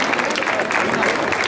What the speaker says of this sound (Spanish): Un aplauso serranísimo a esta agrupación folclórica